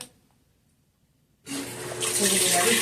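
Roper washing machine filling with water: after about a second and a half of near silence, a loud steady rush of water pours into the drum and grows louder, continuing to the end.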